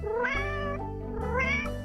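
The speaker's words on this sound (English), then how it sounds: "This kitty toy has brought us letter U." A children's alphabet puzzle kitty toy gives two bright electronic meows, one after another, each a short drawn-out cry heard alone and close with no talking.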